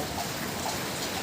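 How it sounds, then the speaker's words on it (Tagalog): Heavy rain pours in a steady, dense hiss of drops on surfaces, loud and unbroken throughout, with no voices. "Kaya lang malakas yung ulan ngayon, halos ulan yung naririnig talaga natin."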